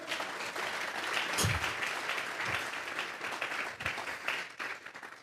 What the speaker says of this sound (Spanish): De una ofrenda de palmas al Señor.